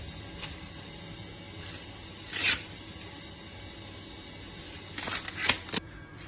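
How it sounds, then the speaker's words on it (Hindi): Corn cobs being husked by hand in a kitchen, with soft rustling and a few louder tearing, crackling bursts of the leaves being peeled away, close and otherwise quiet. "ऊपर वाले बस आपने उतार देने हैं छिलके ऐसे।"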